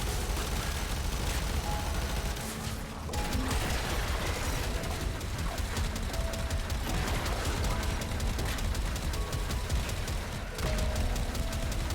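Dense, continuous gunfire and mechanical weapon clatter from a Warframe battle fills the whole stretch loudly, with rapid bursts layered over game effects and only a couple of brief dips.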